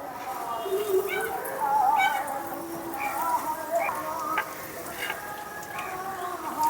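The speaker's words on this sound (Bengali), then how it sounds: "এখন দিয়ে দিচ্ছি তেলের মধ্যে ছেড়ে ভালো করে ভেজে নেব" Fish cutlets fry in hot oil over a medium flame, giving a constant close sizzle, with occasional high squeaky tones over it.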